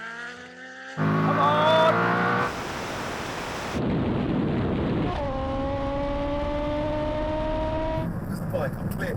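A Koenigsegg, a Tesla Plaid and a turbocharged Hayabusa motorcycle launch in a roll-start drag race. There is a loud rising engine roar with audible gear changes and a sustained high whine, heard from inside under an excited shout.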